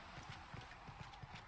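Horse hooves clip-clop in a steady, even rhythm in Dragon Age: Inquisition, a soft, fairly faint run of regular hoof strikes with no talking over them.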